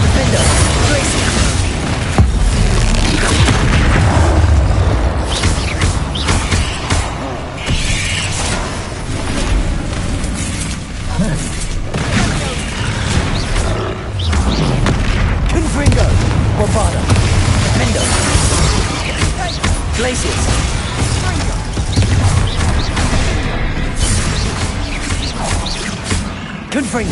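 Bombarda and Confringo explosion spells go off repeatedly in Hogwarts Legacy, loud booming blasts and shattering crashes piling up in a dense, continuous combat din, with voices calling out now and then.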